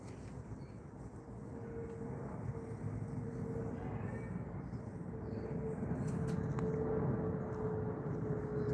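A big airliner moves near a runway, its deep, steady roar building gradually and holding loud and close throughout, with no voices over it.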